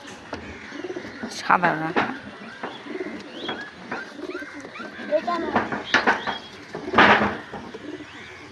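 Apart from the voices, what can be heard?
pigeon cooing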